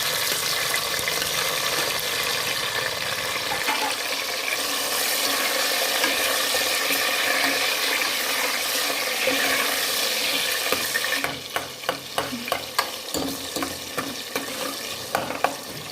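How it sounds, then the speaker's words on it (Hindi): Tomatoes tossed into browned onions for moong and masoor dal hiss and sizzle, then a spoon stirs with rapid scraping clatter against the pot, close up and without talk. "प्याज ब्राउन हो चुके हैं, इसमें डाल देंगे टमाटर।"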